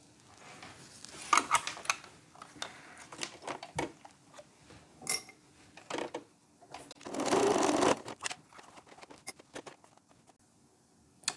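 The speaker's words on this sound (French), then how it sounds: "je vais donc venir faire mon point droit ici et mon autre point droit ici" A sewing machine straight-stitches elastic on a handmade bra, short scattered clicks and handling noises around one longer close whirring run of stitching.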